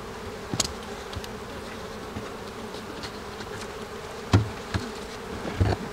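Honey bees at an apiary in Québec, heard as a steady low hum of a spring colony with a few scattered closer passes and soft knocks, no voices present.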